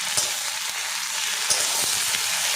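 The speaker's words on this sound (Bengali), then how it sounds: "আদা রসুন পেঁয়াজটা আমি ভালো করে ভেজে নিয়েছি" Chopped onion fried with ginger garlic paste crackles in a hot pan, giving a loud, dense sizzle with a few sharp pops and stirring scrapes close up, and no voices.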